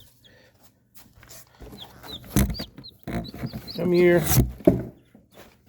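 Newly hatched chicks in a heated brooder give a run of high, thin peeps, scattered at first and then tighter and louder, while a person speaks softly nearby and there is some handling noise.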